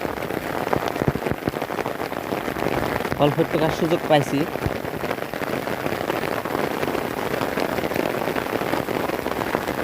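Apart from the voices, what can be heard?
heavy rain falling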